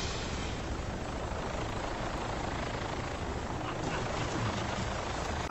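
Continuous loud rotor roar of a helicopter in a movie scene, steady and close, filling the whole moment without a break.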